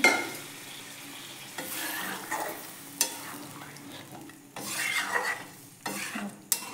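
Hot water goes into a pan of chicken being cooked down in spices, causing loud sizzling bursts that flare and fade between scraping stirs and clinks of a utensil against the pan.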